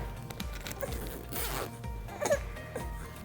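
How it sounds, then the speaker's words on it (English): Zipper on a baby sleep sack drawn from the top down in a few quick, scratchy runs, close and moderately loud with no talk. "this zips from the top down, which makes it easy to get to their diapers"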